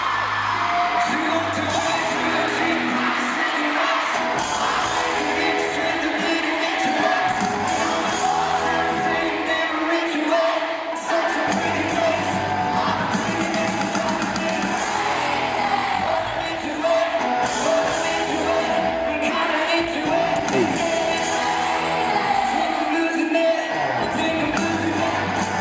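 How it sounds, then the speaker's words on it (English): A concert crowd at a show in Los Angeles sings along loudly and cheers, with a dense, continuous roar of voices, whoops and music filling the whole stretch. "Can you hear the crowd out singing him?"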